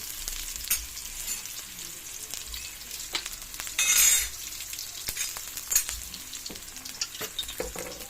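Ginisang munggo, mung beans sautéed with sardines in a pan, sizzles steadily while a utensil stirs and clinks against the pan, with a brief louder burst of frying partway through.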